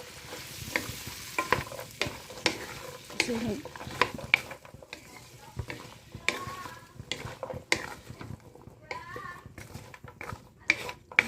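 Sweet potato, potatoes and carrots being sautéed in a pan, with sharp clanks and scrapes of a utensil stirring over a soft sizzle, close by, while someone talks intermittently.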